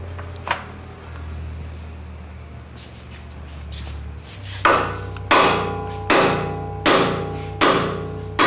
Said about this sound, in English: Let me get a hammer and knock a key out.